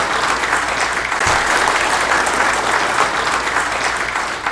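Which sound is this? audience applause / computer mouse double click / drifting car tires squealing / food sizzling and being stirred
audience applause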